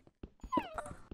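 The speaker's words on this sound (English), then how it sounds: "Noodle's one of those dogs that barks at you if you don't pay" Noodle the dog gives a quick run of short yips and soft whimpers, with one rising, wavering whine in the middle, close and fairly quiet.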